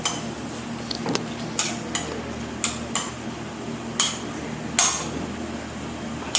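Chicken breast salad is tossed in a bowl, with sharp clinks of a utensil against the dish at irregular intervals over a low, steady kitchen hum.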